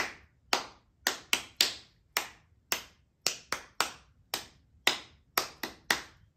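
Sharp hand claps ring out in a steady rhythm, about eighteen in a row, keeping time with a children's storytime song about a panda. The claps are close and crisp, with near-silence between each one and no talking.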